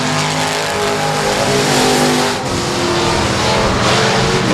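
Race cars roar down the backstretch of a speedway, a dense, loud, continuous engine drone with a brief dip mid-way before the power surges back.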